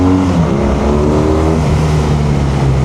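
BMW R nineT Urban GS motorcycle engine and exhaust riding in traffic, a loud steady rumbling drone with a slight rise in pitch, close and continuous with no talk.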